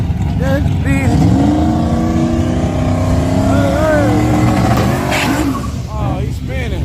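At an outlaw drag strip at night, a drag racing car spins its tires on the strip with a loud, sustained engine roar and rising revs, while people talk and shout nearby.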